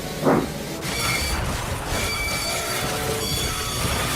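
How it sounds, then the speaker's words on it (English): A train engine hauling a heavy load up Gordon's Hill rumbles steadily with rail clatter, metallic squeals and a short bang near the start, in an animated railway scene. "But then the train started to get very heavy, and Harvey was struggling to get to the top"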